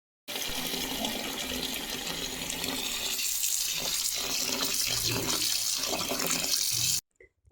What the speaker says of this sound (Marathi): इथे तांदूळ मी स्वच्छ कचाकच 2-3 पाण्याने धुवून घेतले